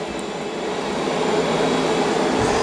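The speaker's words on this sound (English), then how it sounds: "Now it's going to start mopping and vacuuming at the same time also" A Roborock S8 Pro Ultra robot vacuum mops and vacuums at once, its steady whirring motor and brush hum close and even, growing slightly louder as it moves.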